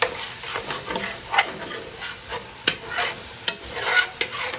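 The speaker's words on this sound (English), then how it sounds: "we're going to deglaze it one more time here" Jambalaya pot being deglazed with liquid while a spoon stirs and scrapes the bottom, a soft steady sizzle broken by scraping strokes and a few sharp knocks, close and without talking.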